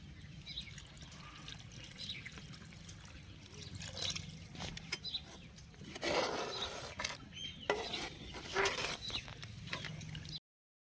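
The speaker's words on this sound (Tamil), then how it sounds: "ஒரு செம்பு தண்ணி ஊற்றிக்கலாம்." Water trickles and splashes as it is poured into a cooking pot of tamarind-based sundakkai gravy, the flow growing louder midway before stopping abruptly.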